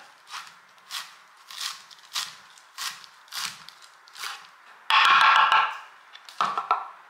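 Limes and herb stems being cut up for guacamole, seven evenly spaced crisp knife chops close by, followed by a louder burst of rustling and scraping, with no talk.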